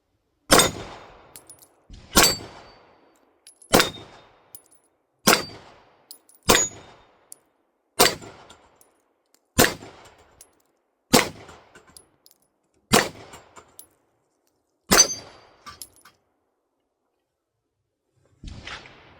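Beretta APX pistol firing light bullets at range targets: ten sharp, loud single shots spaced a second or two apart, each with a short ringing decay, no talking.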